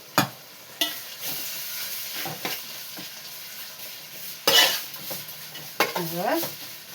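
Spice masala mixed with salt and chili powder fries in a pan, producing soft sizzling punctuated by sharp scraping and clinking stirs against the metal, close by and without voices.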